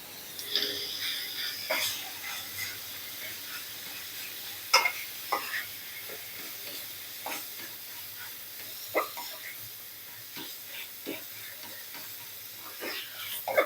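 Tomatoes and minced pork stir-fried in a pan for a quick northern Thai chili dip, with a soft steady sizzle and intermittent scraping and clinking of a spatula against the pan.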